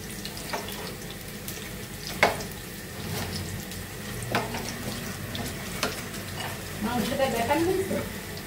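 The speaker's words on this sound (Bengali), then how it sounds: "এই যে ভাজছি আমি, আর এগুলোও ভাজা হচ্ছে" Chicken rolls deep frying in oil, a low steady bubbling sizzle with occasional clinks and scrapes of a utensil, as people talk quietly in the background.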